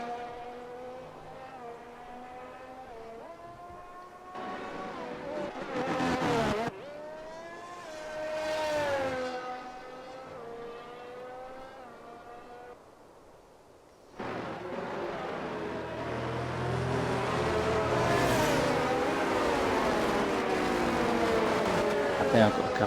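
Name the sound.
race cars at safety car restart, F1 racing video game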